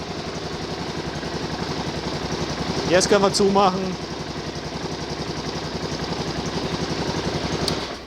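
KTM LC4 single-cylinder motorcycle engine idling with a steady low thrum and brief revs partway through, while someone speaks over it.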